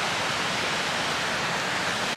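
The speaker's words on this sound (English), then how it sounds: "you can see the front of this waterfall" Silver Falls in Silver Falls State Park roars in a constant, dense rush of water, loud and close, unbroken from start to finish with no voices.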